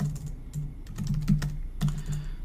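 Fingers type a login on a computer keyboard in a quick, uneven run of close, crisp key clicks with short pauses, heard alone with no talking.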